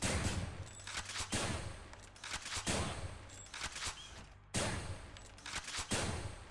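Gunfire from a weapon in the video game Hades: three loud bursts of rapid shots with a steady synthetic hum between them, sharp onsets at even intervals, no talking.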